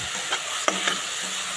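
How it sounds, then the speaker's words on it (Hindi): Boiled macaroni tempered with spices sizzles steadily in a hot pan, with a spoon stirring and scraping a few times through the constant frying hiss. "मैंने मैक्रोनी जो है वो बॉईल करके रख दी थी और लगा दिया तड़का"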